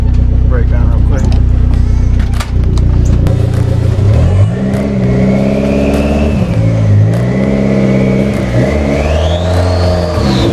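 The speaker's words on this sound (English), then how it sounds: "Turbo on this guy definitely sounds sprightly." A turbocharged car engine revs repeatedly, climbing and falling in pitch, loud and close, with a rising turbo whine and no talking over it.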